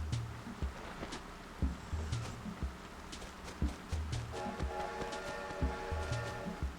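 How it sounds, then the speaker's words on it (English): A train rolls through in the video game Animal Crossing, giving soft, rhythmic clacks at a steady pace, mixed with gentle in-game tones and background music. "I love the train sounds in the game."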